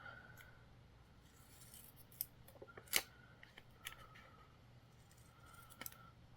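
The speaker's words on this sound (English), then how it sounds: "I want to trim the white edges off of it." Scissors snip white edges off a paper page at a crafting desk, a few scattered quiet cuts with one sharper snip near the middle, over a low steady hum.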